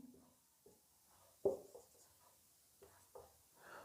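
Pen scratching on paper while writing names during a Class 10 maths lesson, heard as a few short, faint strokes scattered through quiet, with one sharper tap near the middle.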